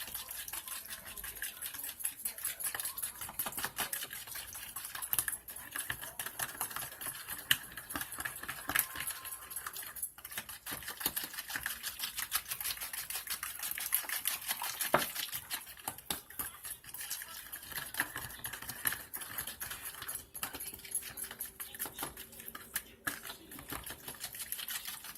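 Steady metallic clinking and scraping of a whisk against a bowl while wet ingredients for chocolate cake batter are beaten, continuing briskly and evenly at close range with no talking.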